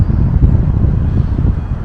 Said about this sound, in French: vous n'allez pas m'entendre, vous allez entendre le vent.